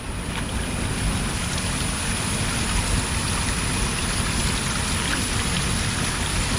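Spring water trickles steadily from a crevice in the rock at a hidden rock waterfall in Cheppukulam, Idukki, a continuous close-up wash of splashing water with no voices.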